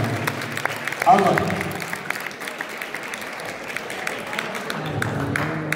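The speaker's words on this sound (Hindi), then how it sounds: "एक बार योगेश जी के लिए जोरदार तालियां बजा दो" Students at a school farewell break into loud, sustained clapping for a guest, a dense crowd of hands heard close and steady, with a brief swell near the start and murmuring voices underneath.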